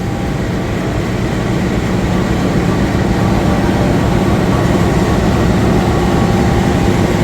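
Argo Merbabu passenger train hauled by a CC 206 locomotive, a loud continuous low rumble of wheels and carriage noise heard from onboard, steady and unbroken throughout.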